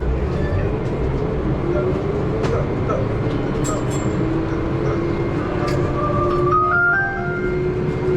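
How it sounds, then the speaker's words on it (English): Steady rumble of the automated CDGVAL shuttle train at Charles de Gaulle Airport in motion, with a rising electric whine and occasional chimes; people talk in the background. "Just board on the CDGVAL airport shuttle train"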